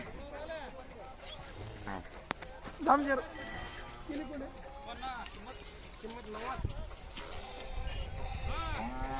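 A cow and her calf mooing at a cattle fair, several deep calls and a higher one, mixed with people talking nearby.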